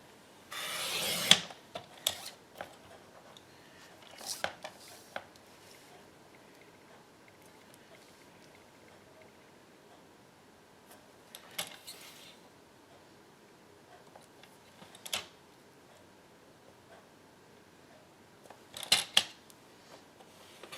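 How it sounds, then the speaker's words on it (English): Cardstock being cut to size for a card layer: brief crisp slicing and rubbing strokes come in separate bursts with quiet gaps between them, close by and moderately loud. "So I'm gonna cut off 1/8 of an inch on either side."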